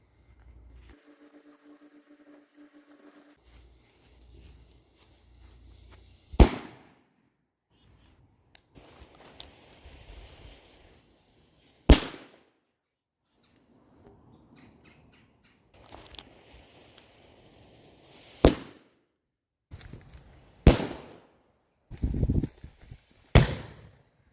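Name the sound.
firecrackers popping outside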